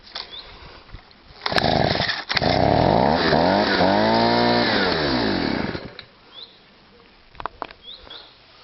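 STIHL SH/BG 85 leaf blower with a loose choke linkage, idling quietly before its two-stroke engine revs up loudly, holds a high whine for a few seconds, then drops back to idle, heard up close.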